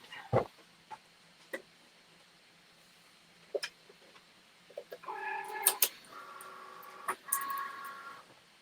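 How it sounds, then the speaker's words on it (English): A Cricut cutting machine cutting a design for a T-shirt: sparse clicks and taps at first, then a whirring motorized passage with tonal buzzing as the blade carriage moves, moderately faint and without talk. "So we're going to put this in the Cricut."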